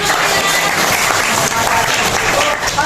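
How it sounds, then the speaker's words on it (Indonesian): Loud, continuous applause from an audience in a classroom setting, dense and even with no break across the short stretch. "Tepuk tangan dulu, tepuk tangan."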